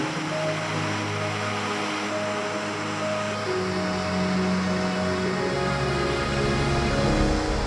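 A mountain torrent rushes steadily in the open, a dense, continuous roar of water holding even and loud through the whole stretch with no voices.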